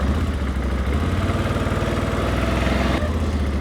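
Engine of a 2024 CFMoto CForce 800 Touring V-twin ATV, a steady loud low rumble with a fast pulsing beat, close, changing pitch slightly near the end, with no speech.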